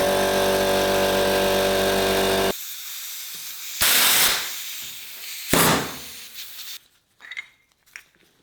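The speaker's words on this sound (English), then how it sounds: "this is where I get to use my fancy new V-twin air compressor" A V-twin air compressor runs with a loud steady drone, then compressed air blasts in sharp hissing bursts at a motorcycle's rear brake caliper, with quieter gaps between.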